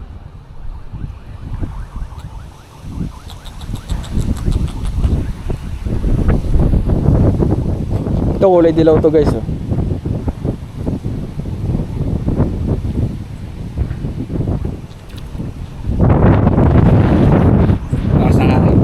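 Strong gusting wind on a fishing outing buffets the microphone in rough roaring bursts, swelling loudest near the end, while people talk over it.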